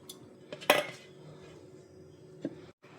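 Grated coconut tipped into a mixer grinder jar, with a sharp clink of metal against the jar and a few light knocks and rattles, close and fairly quiet, with no talking.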